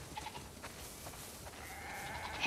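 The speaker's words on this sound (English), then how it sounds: "We definitely have way too many sheep." Faint sheep bleats sound in the distance over a soft background hiss in the video game The Last of Us Part II, the clearest one drawn out near the end.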